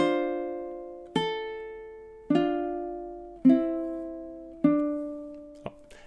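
Ukulele plays measure 24 of a song, four single plucked notes spaced evenly, each ringing and decaying alone, with a faint final pluck.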